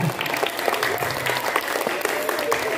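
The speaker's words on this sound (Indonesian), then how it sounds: "Kita beri tepuk tangan untuk Mas Andika ya" A group of students applauds a classmate's question during a study tour session, with steady, dense clapping throughout that stays fairly close and even with no pause.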